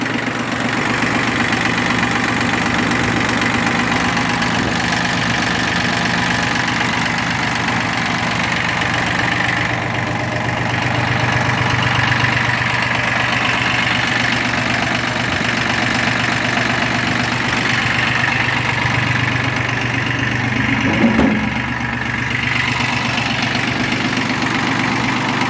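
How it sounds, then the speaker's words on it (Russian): A Yanmar mini tractor's diesel engine idles steadily and close by, a constant low mechanical drone with a faint knock that holds even for about twenty-five seconds with no talking. "Двигатель работает отлично."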